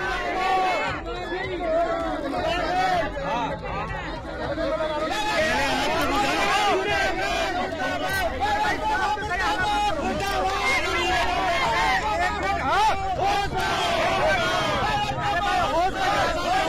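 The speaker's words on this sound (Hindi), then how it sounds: "स्थानीय लोगों ने महापौर का घेराव किया और नगर निगम के विरुद्ध जमकर नारेबाजी की" Locals in Shishambada, Dehradun, crowd around the mayor and shout slogans against the municipal corporation, a loud, continuous mass of overlapping shouting and chatter close to the listener.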